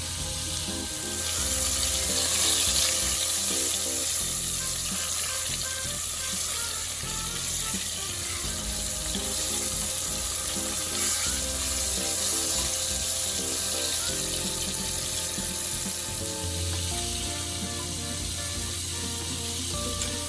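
Hot water poured into a gravy mixture for fried chicken, a steady continuous splashing rush that stays loud and even throughout, with no talking.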